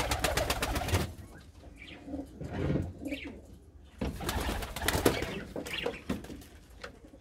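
Pigeons cooing in a poultry coop, a steady layering of low, rolling coos with some rustling and faint chirps, fairly close, with no talk.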